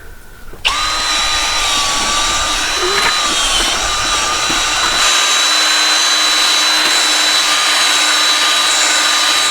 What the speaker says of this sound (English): we're going to stir it all up with this drill